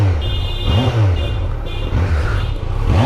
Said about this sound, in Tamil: சரி கைஸ், நம்ம அப்படியே எக்ஸாஸ்ட் நோட்டோ பார்த்துடலாம்.